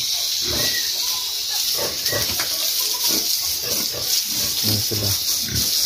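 Pigs on a farm being bathed with a hose, grunting and snuffling in repeated short bursts under a steady hiss of spraying water.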